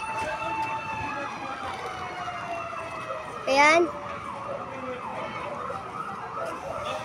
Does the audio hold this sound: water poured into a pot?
no